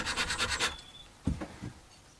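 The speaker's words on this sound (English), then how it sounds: "a very, very flat file for cutting the tops of the frets" A very flat file is stroked across the tops of the metal frets on a Stratocaster-style guitar neck to level them. About half a dozen quick, rhythmic rasping strokes come first, followed after a short pause by a few slower ones, close and clear.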